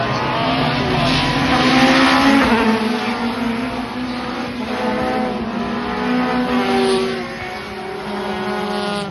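British Touring Cars at Brands Hatch heading toward Druids, engines roaring loudly and continuously side by side into a braking zone, several revving notes rising and falling with a shifting whine, no talk.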